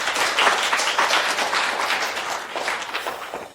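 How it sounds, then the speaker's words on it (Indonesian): An audience applauds to welcome an artist, a dense and fairly loud stretch of many hands clapping that slowly thins and fades toward the end. "Mari kita sambut dengan tepuk tangan meriah."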